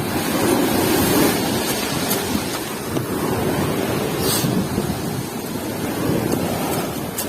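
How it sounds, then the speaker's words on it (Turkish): Steady roar of surf with waves washing in continuously near a tent during a sudden storm with heavy rain, loud and close, mixed with wind buffeting the microphone. "Şimdi dalgalar buraya kadar vuruyor."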